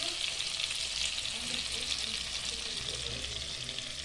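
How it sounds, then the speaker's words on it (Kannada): Butter sizzles in a hot pan for pav bhaji, a steady, even hiss of frying fat that holds at moderate volume throughout with no voices. "ಟೇಬಲ್ ಸ್ಪೂನ್ ಬೆಣ್ಣೆ ಬಟರನ್ನು ಹಾಕಿಕೊಂಡು ಆಗಿದೆ."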